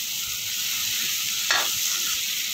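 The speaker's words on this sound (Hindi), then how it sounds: "अब परवल डाल के इसमें हम अच्छे तरीके से भूनेंगे।" Pointed gourd (parwal) sizzles and fries in a pan with a steady hiss while a spoon stirs and scrapes through it, with one brief louder scrape partway through.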